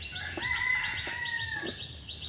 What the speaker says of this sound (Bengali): হাঁস মুরগি সব ডাকাডাকি করতেছে